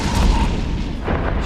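A ship hull collapsing and exploding in the space game EVE Echoes, a heavy rumbling boom with layered blasts rolling through, loud and close, with no voices.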